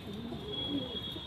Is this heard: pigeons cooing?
yes